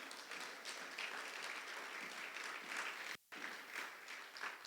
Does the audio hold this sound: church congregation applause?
yes